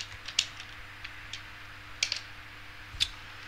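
Keys on a computer keyboard are tapped as a Linux command is typed, a few scattered clicks with pauses between them, close and fairly quiet over a low background hum.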